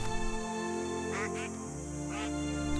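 Several ducks quack in short nasal bursts over steady background music and a narrating voice, two or three calls standing out clearly.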